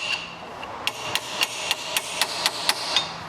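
A hammer strikes a CV joint nut's retaining shield to bend it into place on a car hub, about ten sharp metallic taps in a steady, slightly quickening rhythm, close and clear with no talk.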